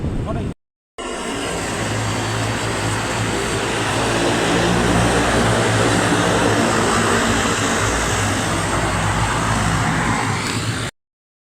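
Airliner engine noise on a Kathmandu to Pokhara flight fills the cabin as a loud, steady roar with a continuous hum, broken only by a brief silent gap near the start.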